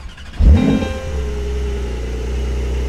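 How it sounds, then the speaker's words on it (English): A Maserati MC20 supercar engine fires up with a loud burst, then settles into a steady, deep, rumbling idle that continues to the end. "Pull this around, ignition comes on"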